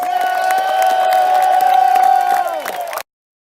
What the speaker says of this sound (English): give him a big round of applause here in Cooperstown